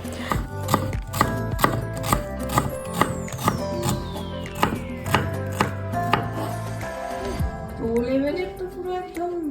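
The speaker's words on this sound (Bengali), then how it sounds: "এখানে তো একজন পেঁয়াজ কাটতে ব্যস্ত" Onions being chopped on a board in a home kitchen, a quick run of regular knife strikes that come close and crisp, with a voice briefly audible near the end.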